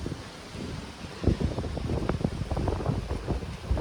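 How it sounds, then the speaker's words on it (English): Steady wind storm rushes and buffets against the microphone in the Baja, Mexico desert, with gusts growing stronger and rougher partway through and a low rumble underneath. "A little bit windy here"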